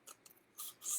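Scissors snipping a paper semicircle windshield for a DIY racecar craft, a few short crisp cuts close up, quiet and separated by brief pauses, the last snips slightly louder and longer.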